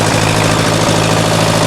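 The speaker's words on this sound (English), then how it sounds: "Fires right up, runs good." A John Deere 1010 tractor engine running steadily, a loud, close, continuous mechanical drone with a low rumble throughout and no voices.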